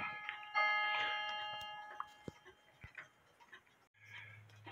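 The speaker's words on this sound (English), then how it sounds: "So this is the front of the 8-day Oompa bell ringer clock." An 8-day Oompa bell ringer cuckoo clock by Albert Schwab Karlsruh, faint close ticking with a brief ringing metallic tone near the start and scattered soft clicks.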